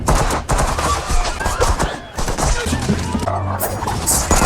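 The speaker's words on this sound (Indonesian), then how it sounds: "datang suruhan Alexei untuk menyerang dan terjadi baku tembak, namun Nikolai hanya terluka sedikit." A movie shootout at a nightclub fills the scene with rapid bursts of gunfire, sharp cracks and clattering shots in quick succession, loud and close, with talk mixed in.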